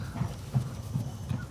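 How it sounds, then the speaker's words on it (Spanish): Hooves of a horse from a Spanish stud clip-clop in a steady, moderately paced rhythm, four soft low thuds at close range with no talking. "un caballo muy especial"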